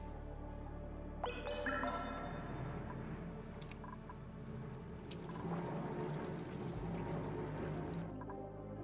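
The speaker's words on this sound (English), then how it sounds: "We could also speed this along by letting this water drip down here." Water drips and pours down in a continuous watery wash that stays fairly faint and steady, with scattered small clicks and splashes and a brief tonal swell near the start; no speech.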